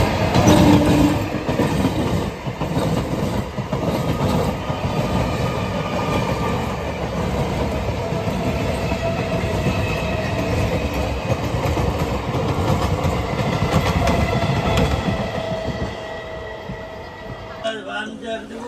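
Sealdah–Godda fast passenger train running near Garifa railway station, with a loud, steady rumble and rhythmic clickety-clack of wheels on rails that carries on for a long stretch before easing off at the end.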